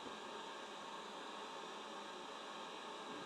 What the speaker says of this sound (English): Not my vacuum wanting to make all this noise now.